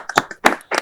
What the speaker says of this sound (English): Let's give one more round of applause for all of our awardees